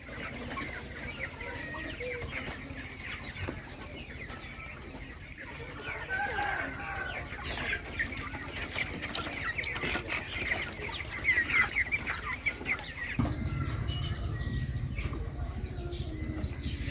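Chickens cluck and chatter continuously on a village chicken farm, a dense flock sound at moderate distance with a low rumble joining near the end.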